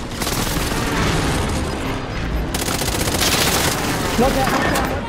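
Precision airstrike in a video game: a dense, continuous barrage of rapid blasts and gunfire-like bursts rolls on without a break, loud and close.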